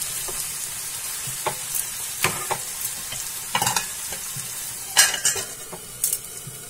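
Fenugreek leaves and potatoes fry in a pan for methi aloo, a steady hiss of sizzling broken by scattered spatula scrapes and metallic clinks against the pan, close and fairly loud, with no talking.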